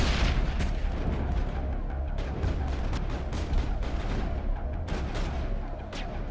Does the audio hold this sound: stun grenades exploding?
yes